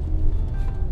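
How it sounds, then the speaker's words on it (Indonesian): A 2013 Lexus RX270 engine revs up under acceleration, a loud low rumble close to the microphone, with no one talking. "Kita coba gas yuk. Tuh, enak ya, tarikannya meskipun belum turbo tapi enak."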